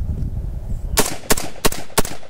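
Rifle fed from a Troy Battlemag magazine fires five sharp, loud shots at an uneven pace, each crack standing out clearly after a quiet lead-in outdoors.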